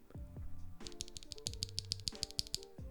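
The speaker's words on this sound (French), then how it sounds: "ils sont bien lubrifiés et très claquis" Keys on a custom Epomaker keyboard fitted with lubed, clacky Zebra switches produce a brisk run of sharp clacks in uneven bursts, close and clear, with no voices.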